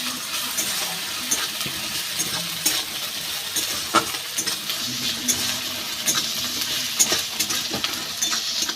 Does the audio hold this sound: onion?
yes